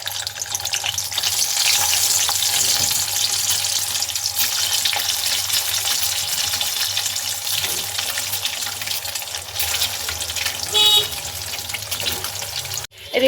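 Halved boiled eggs fry steadily in a pan in a home kitchen, giving a constant, fairly loud hiss like running water that continues without pause and ends with a brief knock.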